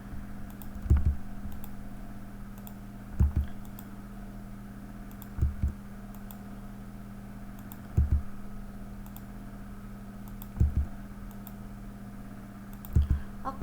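Keyboard keys pressed while drafting in CAD software, six isolated single keystrokes spaced a few seconds apart over a steady low electrical hum, close and fairly quiet.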